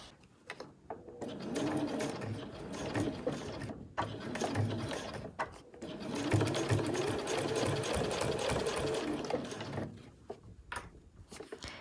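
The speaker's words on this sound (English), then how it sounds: "I'm just sewing through the pocket panel and the flap panel across the top edge there" A sewing machine stitches through a fabric backpack's pocket panel and flap panel along the top edge, running in steady mechanical bursts with brief pauses between runs, close and clear with no talk.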